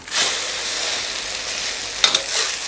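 A cha-om (acacia leaf) omelette sizzles steadily in a frying pan right after being flipped, a constant loud hiss with a brief clatter of the pan partway through.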